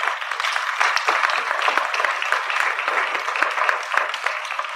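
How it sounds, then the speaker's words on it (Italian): Audience applause at a public talk, steady dense clapping from many hands, sustained and fairly loud throughout with no break. "Le facciamo un applauso, dai."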